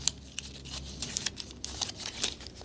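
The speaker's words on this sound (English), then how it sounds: "A normal bill, crumple up like this." A linen banknote crumpled by hand, giving a steady run of close, dry crinkling and rustling with sharper crackles scattered throughout, fairly quiet with no voices.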